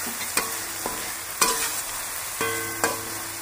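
Tomato puree tipped into a hot pan for a Bengali pomfret fish curry, sizzling continuously while a spatula scrapes and clinks against the pan in several distinct strokes, with no voices.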